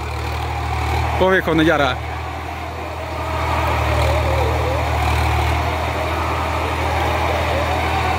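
A Swaraj 744 XT tractor engine runs at a steady idle, a constant low rumble close by, while someone speaks briefly near the start.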